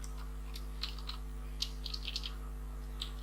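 Computer keyboard clicks out a quiet, irregular run of separate keystrokes over a steady low electrical hum, with no talking.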